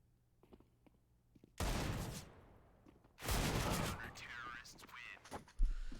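Rapid gunfire bursts in a Counter-Strike match on the Mirage map during an ESEA MDL North America game, two loud sustained volleys after a quiet lead-in, the second trailing into ringing echoes and a final sharp shot.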